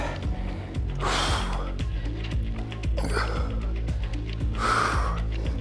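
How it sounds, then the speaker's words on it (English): Three forceful, breathy exhales spaced a couple of seconds apart, close to the ear, over a steady background beat. "you could really hear me accentuate my breathing"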